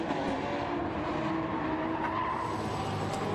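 Honda NSX race cars circle a track in a Gr.2 racing video game: a continuous engine drone mixed with tire squeal and skidding, with no voices over it.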